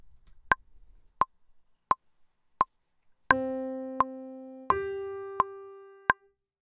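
Four evenly spaced click beats count in, then two sustained minim notes on different pitches sound one after the other while the clicks keep going underneath, clean and close with no talk.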